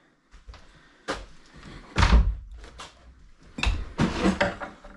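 Old wooden doors in an abandoned building, opening and closing with a series of knocks, creaks and heavy thuds, the loudest bangs clustered near the middle and end, close and echoing in an empty room.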